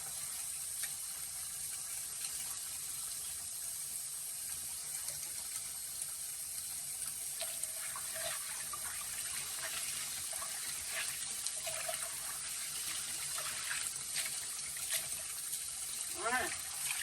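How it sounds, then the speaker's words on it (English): Tap water runs steadily into a kitchen sink as collard-style cooking greens are rinsed, a continuous hiss with intermittent splashy gurgles and clinks as the leaves are handled, no talking over it. "I just rinse the greens off."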